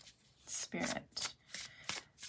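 Tarot cards being shuffled by hand, a series of short crisp riffling bursts repeating roughly every half second, close and fairly quiet.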